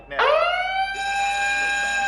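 School alarm system in a classroom scene from the film Arrival, a loud, continuous electronic tone that blares suddenly and holds steady, shifting pitch slightly partway through.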